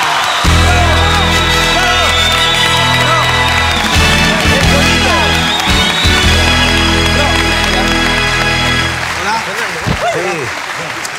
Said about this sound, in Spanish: Vamos a recibir con un fuerte aplauso a don Fabián Moncada y familia.